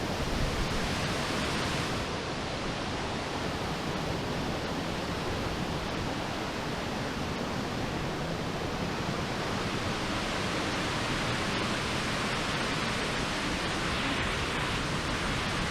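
Loud, steady rush of a waterfall on a hiking trail, heavily falling water close by, a dense roar that fills the whole clip without letting up.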